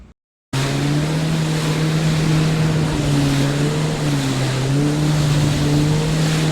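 A jet ski runs on open water in windy conditions, its engine giving a steady loud drone with slight pitch shifts, close and continuous after a brief quiet start, with wind and water noise around it.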